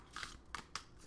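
A small tarot card deck is shuffled by hand, giving three quick, crisp papery riffles in about a second. The sound is close but quiet, with no speech.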